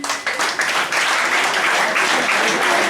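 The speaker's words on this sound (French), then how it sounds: "On acclame." A church congregation bursts into applause, a dense, loud wash of many hands clapping that holds steady throughout, with no voices standing out.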